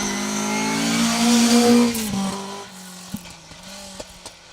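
A Gilbert Invader rally car with a 3-litre Ford V6 passes loudly on an asphalt rally stage, its engine note rising and then dropping away as it goes by, followed by quieter distant clicks.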